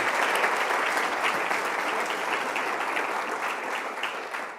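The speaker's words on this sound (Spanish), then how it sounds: "Un aplauso para ti." A room full of people at a UNESCO Chair of Communication academic ceremony keeps up steady, sustained applause, loud and even at first and tapering slightly toward the end, with no voices on top.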